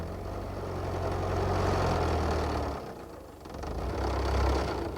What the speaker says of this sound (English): while Farmer Stubble took a turn in the tractor